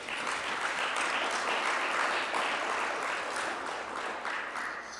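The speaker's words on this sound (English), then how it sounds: "I want you to give yourselves all a round of applause" An audience at the launch of a national tourism debate competition claps, a dense and even burst of many hands that holds steady for several seconds before tapering slightly, no voices over it.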